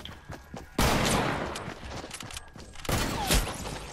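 Gunfire from a sniper in an online shooter video game, two loud, sharp shots that each ring out and fade, heard fairly close with faint background noise between.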